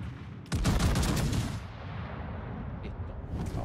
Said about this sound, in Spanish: le pegué dos cañonazos